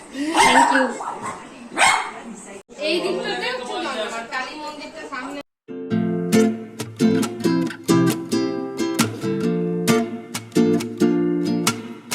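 A dog barks in a home, sharp repeated barks and yips coming in quick bursts, loud and close, with people talking over the first part.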